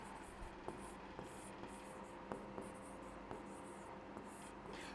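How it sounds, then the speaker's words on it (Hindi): Marker or chalk writing on a board in a Hindi classroom lesson: short scratchy strokes and light taps in an irregular rhythm, faint and close, over a steady background hiss. "यहां लिखती हूँ, पहला होता है हमारा विधिवाचक"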